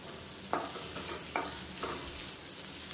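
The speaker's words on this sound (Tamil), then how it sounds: "இப்போ வெங்காயம் லேசாக வதங்க ஆரம்பிச்சிருச்சு" Onions sauté in a pan with mint leaves and salt, giving a soft continuous sizzle. Three distinct scraping stirs sound close by, and no one speaks.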